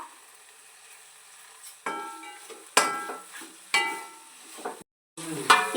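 Tomato beef masala being stirred in a pan, with bursts of sizzling and scraping as the spoon moves, four or five distinct strokes separated by quieter simmering and a brief silent gap, close and alone.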